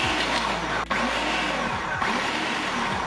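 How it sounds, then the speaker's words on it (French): A food processor whirs steadily as it chops garlic, carrot and courgette. The motor drones loud and continuous, with two brief dips in pitch. "je vais passer tout ça au robot pour hacher menu"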